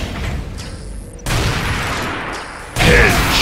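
Weapons fire in Unreal Tournament 3 gameplay against bots comes as loud, dense bursts with abrupt booming blasts over a constant roar.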